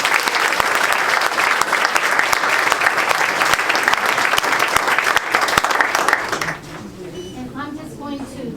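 A crowd at an outdoor Juneteenth celebration in Altadena applauds loudly and steadily for about six seconds, then the clapping drops away and a voice begins speaking.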